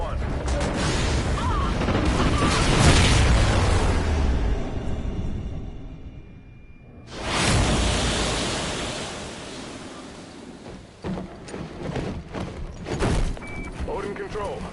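Space station detonation in Call of Duty Ghosts, a loud rumbling blast that swells and fades over several seconds, followed by a second surge of roaring noise and scattered debris impacts.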